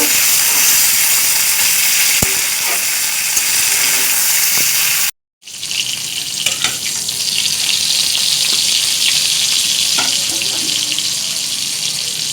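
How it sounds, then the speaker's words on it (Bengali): Cauliflower florets fry in hot oil with bay leaf, giving a loud, close, continuous sizzling hiss that cuts out briefly midway, then resumes just as strong, with no talking. "তারপর এখানে দিয়ে তেজপাতা ফোড়ন দিয়ে ফুলকপিগুলিকেও ভেজে নেব"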